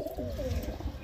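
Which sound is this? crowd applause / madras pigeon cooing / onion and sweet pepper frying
madras pigeon cooing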